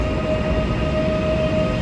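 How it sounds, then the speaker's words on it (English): Warsaw S-train regional commuter train running, a steady low rumble of rolling wheels with a faint sustained whine on top, close and continuous for the short span. "Oh no, it's an S train."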